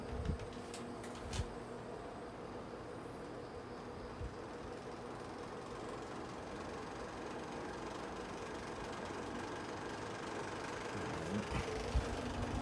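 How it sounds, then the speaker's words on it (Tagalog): A faint, steady mechanical whirring of a noisy electric fan in a PC with a GeForce GTX 1050 Ti graphics card, droning continuously with a few small clicks and knocks. "Yung maingay po yung electric fan ko, yan."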